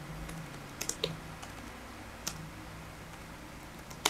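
A few sparse, light key clicks from a computer keyboard as text is typed, faint and scattered over a quiet room hiss, with no talking.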